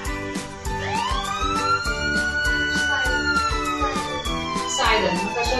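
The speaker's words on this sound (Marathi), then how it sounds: "सायरन" A siren rises and wails over steady, rhythmic pulsing beats, loud and continuous, played as a sound to identify in a hearing exercise.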